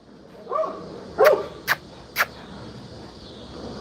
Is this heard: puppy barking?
yes